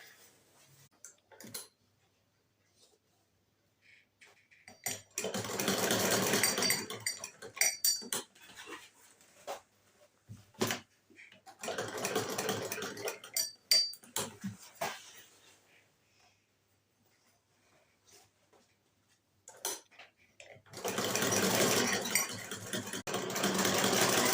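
A sewing machine hems a bushcraft bucket bag in three close bursts of fast, steady stitching, separated by quiet pauses with faint handling clicks and thumps.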